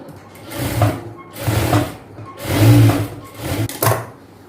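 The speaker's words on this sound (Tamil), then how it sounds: "இதை வந்து ஒரு படிமான தையல் போட்டுக்கலாம்" A sewing machine runs in four separate bursts of rapid stitching while joining cloth pieces for a palazzo pant, each burst about a second long with short pauses between.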